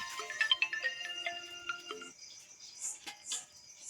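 A phone ringtone plays a short melodic electronic tune for about two seconds in a quiet room at midnight, followed by faint clicks and rustles.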